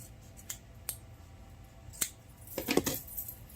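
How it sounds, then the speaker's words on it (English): Scissors snip through excess denim fabric in a few sharp, separate cuts, then a quick cluster of crisp snips near the end, close and quiet with no talking. "I'm gonna just cut some of this excess off."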